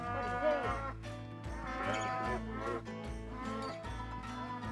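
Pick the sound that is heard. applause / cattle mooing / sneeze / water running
cattle mooing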